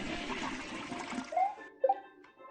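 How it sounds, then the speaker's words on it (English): A toilet flushes in a loud rush of swirling water, then drains off into quieter gurgles and a few short trickling tones as the tank refills. "I'd flush this fucker right down my toilet."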